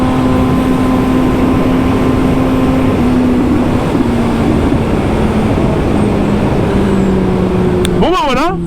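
Motorcycle riding through traffic, filmed on a GoPro, with a steady droning engine hum and broad road and wind noise throughout, plus a rising whine near the end as the bike revs.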